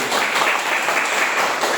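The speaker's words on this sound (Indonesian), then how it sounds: "Tepuk tangan untuk kelompok 1." A group of students applauds a classmates' presentation in a classroom practice session, a brief, dense burst of many hands clapping at steady loudness throughout.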